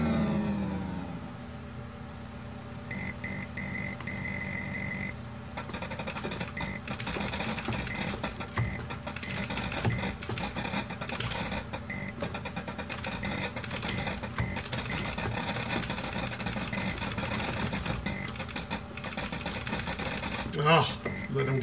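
Capcom's 1942 arcade game plays, with rapid mechanical-sounding firing bursts, electronic tones and engine-like noise looping continuously with busy, uneven intensity.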